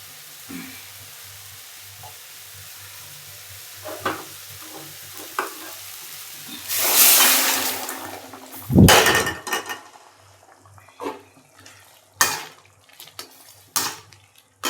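Rabbit meat going into a pot of sautéed masala, with a burst of loud hissing sizzle midway followed by a heavy thud and clanks, then stirring scrapes and pot knocks.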